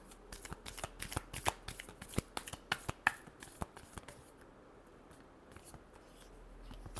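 Tarot cards shuffled by hand in a quiet room, a fast run of crisp riffling flicks and taps that thins out toward the end.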